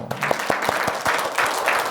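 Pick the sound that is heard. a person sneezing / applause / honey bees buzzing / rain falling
applause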